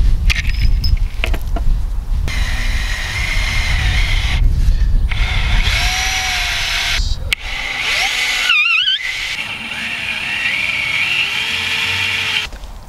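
A power drill driving big screws into tubeless bike tires, whirring and ratcheting in bursts with rising and falling motor pitch, close and loud against some background noise.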